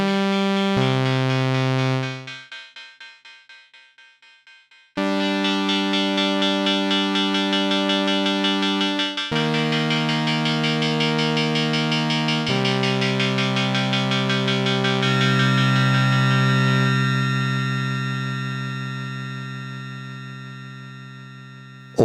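A synth runs through an AIR Ether multi-effect on an MPC, sustained harmonic chords that cut out, return and shift pitch in blocks, with a pulsing, modulated shimmer and no voices.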